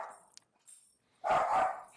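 A dog gives a short burst of barking near the end, two or three quick close barks after near silence and a faint earlier yelp.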